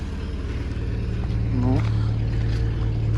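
Steady, low idle of a ZAZ Vida car engine running on gas, a close, constant hum with someone speaking over it.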